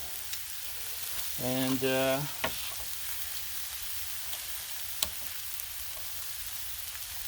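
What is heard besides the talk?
thick pork chops sizzling on Blackstone griddle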